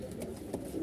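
Racer pigeons of a Johnson bloodline kept in a crowded loft give a short, soft cooing call, quiet and close, with no talk over it.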